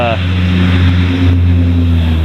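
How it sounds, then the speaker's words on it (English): A loud mail truck engine rumbles steadily close by with a deep, droning hum as it passes, and a voice is faintly audible beneath it. "being interrupted by a loud mail truck"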